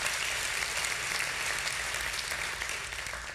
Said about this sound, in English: Can we all give them a big hand clap of appreciation?